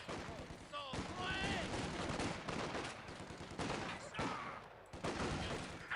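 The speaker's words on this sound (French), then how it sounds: "Des tirs." Gunfire from Company of Heroes 2, a World War II strategy game, set at Dunkirk: dense rifle and machine-gun bursts crackle continuously over a loud battle bed. Soldiers shout orders throughout.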